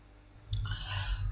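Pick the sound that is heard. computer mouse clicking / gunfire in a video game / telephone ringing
computer mouse clicking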